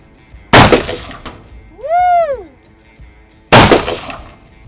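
Two loud, sharp gunshots ring out a few seconds apart at a shooting range firing line, with a brief rising-and-falling whistle-like tone between them and a faint click after the first.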